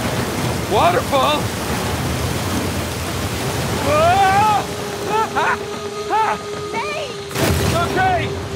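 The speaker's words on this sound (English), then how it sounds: "Waterfall! Waterfall!" A roaring waterfall in the video game Uncharted 4 rushes as a continuous loud wash of water, with voices shouting over it several times.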